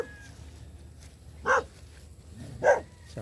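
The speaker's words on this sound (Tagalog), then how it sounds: "Kinakahulan tayo ng aso." A dog barks twice outdoors in Tanawan, Polangui, short separate barks about a second apart, moderately distant over a low ambient hum, with no speech.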